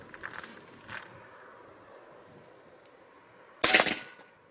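A single sharp shot from a Hatsan Hercules 666 PCP air rifle in .25 (6.35 mm) while plinking: one loud crack near the end, following quieter handling noises, with no talking over it.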